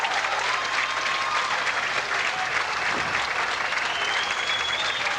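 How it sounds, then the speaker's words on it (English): Sustained audience applause at a 1993 candlepin bowling championship, a partial standing ovation for the champion: dense, steady clapping at even loudness throughout, with no talk over it. "the applause, a partial standing ovation for the inevitable champion, Tom Olszta."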